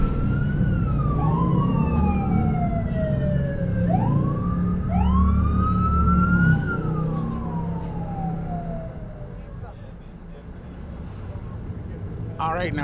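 Police escort sirens wailing and yelping near a motorcoach as it leaves DFW Airport, several overlapping sweeping tones loud over road rumble and engine noise, fading toward the end, with a voice talking over them.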